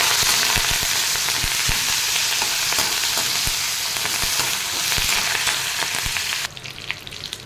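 Curry leaves sautéing in hot oil in a pan for a chutney, giving a loud, steady crackling sizzle that fills the whole stretch and drops suddenly quieter near the end.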